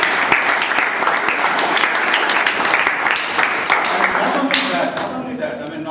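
A crowd claps steadily for the meeting secretary, dense and sustained applause filling the room before tapering off near the end.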